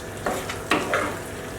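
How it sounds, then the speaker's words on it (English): Cooked crab meat is gently folded into a sauce in a hot pan over low heat, giving a few soft scraping stirs over a quiet steady sizzle, close by, with no talk. "we'll fold in the crab meat"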